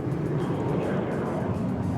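Aircraft in the WARNO video game flying overhead as a steady, dense broadband roar of jet noise with no breaks, loud and constant across the short stretch.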